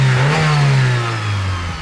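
Close, loud revving from a Mitsubishi Evo VIII engine running with its serpentine belt removed, a steady deep drone that climbs and eases off without any belt whine, with no one talking.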